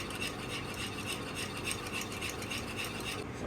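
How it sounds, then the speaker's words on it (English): Steady scraping and rattling of a whisk working flour into a sauce in a pan, fairly quiet and continuous with no talk. "we need to keep whisking this so we don't get a lumpy sauce"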